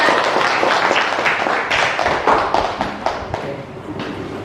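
Schoolchildren in a classroom clap for their classmates, a loose mix of quick taps and thuddy claps that fills the room for several seconds, fairly loud and close, then thins toward the end.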